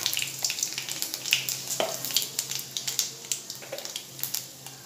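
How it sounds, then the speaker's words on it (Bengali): Two dry red chillies, bay leaf and panch phoron spluttering in hot oil for a pumpkin-shoot pea dal, a close steady sizzle with frequent sharp pops and crackles, no talk. "এবার আমি এর মধ্যে দুটো শুকনো লঙ্কা দিয়ে দিলাম ফোড়নে, দিয়ে দিলাম তেজপাতা, দিয়ে দিলাম পাঁচফোড়ন পরিমাণ মতন।"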